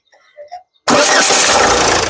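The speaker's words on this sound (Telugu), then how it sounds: "సింగిల్ సెల్ఫ్ లో కార్ స్టార్ట్ అవుతుంది ఎటువంటి స్టార్టింగ్ ట్రబుల్ అయితే లేదండి" A 2013 Ford EcoSport Titanium Plus engine cranks and catches on the first try after a short quiet lead-in, then settles into a loud, steady idle with no further pause.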